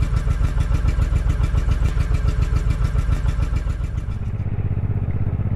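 A motorcycle engine already running after starting, loud and close, with a rapid, even firing pulse that settles into a lower, steadier idle near the end.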